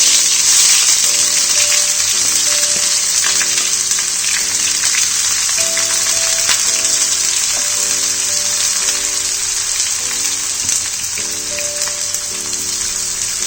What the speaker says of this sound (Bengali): পেঁয়াজগুলো হালকা ব্রাউন হওয়া পর্যন্ত ভালো করে ফ্রাই করে নেব আমি।